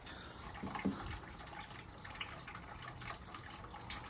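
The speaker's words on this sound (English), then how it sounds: "filling in water at the top here to flush some of this junk out" Water trickles and splashes into the cooling system of a 1979 C3 Corvette during a radiator flush, a faint, steady pouring wash with a couple of brief louder gurgles near the start.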